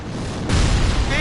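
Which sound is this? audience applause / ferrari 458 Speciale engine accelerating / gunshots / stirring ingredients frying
gunshots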